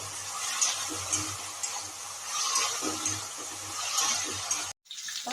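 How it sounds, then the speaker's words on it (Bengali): Fish fries in a pan with a soft, continuous sizzle and light kitchen clatter over a low hum. The sound drops out briefly just before the end, and there is no talking. "তো আমার এখানে শুরু হয়ে গেছে মাছ ভাজা"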